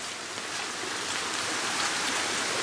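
Rainwater from extreme rain rushes across a backyard lawn like a fast-moving river, making a steady, dense hiss of flowing water and rain, close and continuous, with no talking.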